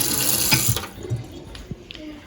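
Small amount of water running from a kitchen tap for a candied walnut glaze: a short steady stream for under a second, followed by light clinks and handling noises nearby.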